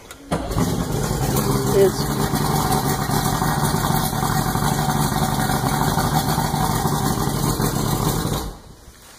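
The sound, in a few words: 1985 Boston Whaler Outrage boat motor starting and idling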